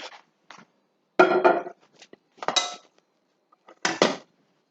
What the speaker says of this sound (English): So let me just get my frying pan out